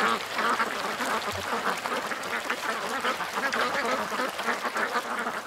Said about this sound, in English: Just look at those ducks. Hey, they're having so much fun. This is a duck life.